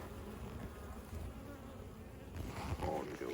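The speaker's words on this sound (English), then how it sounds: "want more bees coming back to the hive without pollen on them" Honeybees hum steadily at an open hive during an inspection, a dense continuous buzz of many insects close by that swells slightly louder toward the end, with no talking.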